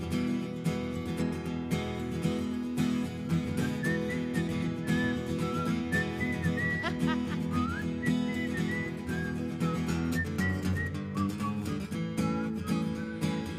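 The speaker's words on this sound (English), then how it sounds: "Whistling into a microphone is not easy." A bright melody whistled into a microphone rises and glides over a full, steady musical backing, close and clear throughout.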